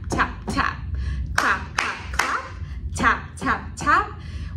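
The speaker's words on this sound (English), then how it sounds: "My hands say thank you with a clap, clap, clap." Hands clap in a steady rhythm during a children's storytime, a few sharp claps spaced about half a second apart, close and clear, with an adult's voice speaking or singing along over them.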